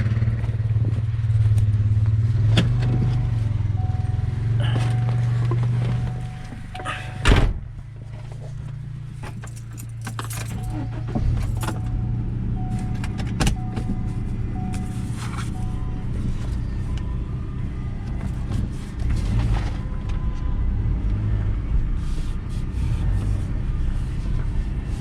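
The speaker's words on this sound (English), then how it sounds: "I gotta get in the Subaru and start following." A Subaru car on a wooded road; engine rumble with a key jingle and door clatter, a brief thump, then a steady low drive hum throughout.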